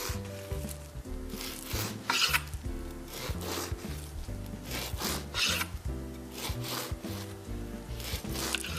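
A knife saws back and forth through bread slices to cut pockets for stuffed French toast, in repeated rasping strokes with a steady tonal backing underneath and no talking.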